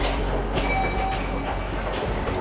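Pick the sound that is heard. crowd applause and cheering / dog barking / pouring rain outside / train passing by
train passing by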